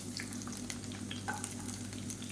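Shallots and garlic sauté in hot oil for a coriander leaf thokku, a steady close sizzle with faint stirring scrapes throughout the short stretch, no voices.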